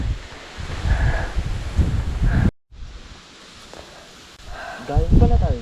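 Strong wind on a mountain traverse of Mt. Batulao roars and buffets the microphone in gusts, with a brief dropout midway and a few voices talking faintly underneath.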